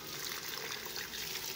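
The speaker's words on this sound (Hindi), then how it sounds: "अब ये मेरे चने भून चुके ना, मैं डालने लगी पानी।" Water is poured into a cooking pot of roasted chickpeas for achari chana pulao, giving a steady, close, rushing splash with no talk.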